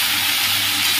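Potatoes dropped into hot mustard oil with cumin, cardamom, cinnamon and cloves, giving a loud, continuous hissing sizzle that fills the whole short moment.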